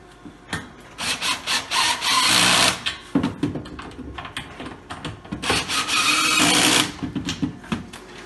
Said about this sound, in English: I like to use a drill